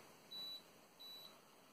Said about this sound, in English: A lot of beeping